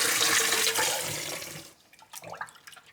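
Vegan seitan dough is rinsed in a water bath, with loud sloshing and splashing that fades into quieter, intermittent drips and swishes.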